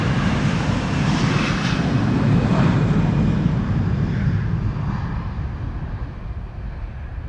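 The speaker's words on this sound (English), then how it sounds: "This is Finnair flight 1302 going to bloody Helsinki in Finland." A Finnair Airbus A321 jet departs from Amsterdam Schiphol, its engines giving a loud, steady roar that swells and then slowly fades as it climbs away.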